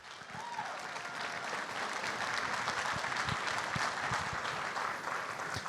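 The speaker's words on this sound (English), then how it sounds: "One more round of applause, everyone," An audience at a university awards ceremony claps in sustained, even applause with scattered louder claps, lasting several seconds at moderate volume without talk.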